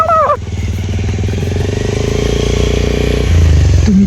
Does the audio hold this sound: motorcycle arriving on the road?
yes